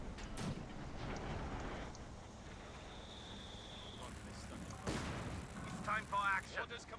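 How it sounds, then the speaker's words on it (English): Artillery fire in a Company of Heroes 2 battle, with several deep booming blasts at a distance among other combat noise while a voice talks over it. "Artillery firing down there, trying to silence the Firefly"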